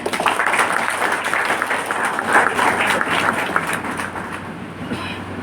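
Clapping from a seated audience at a spiritual conference in Sambalpur, a rolling, dense wash of applause at moderate level with a low steady hum beneath, tapering off toward the end.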